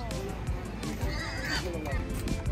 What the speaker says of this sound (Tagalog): may mga ponies din sila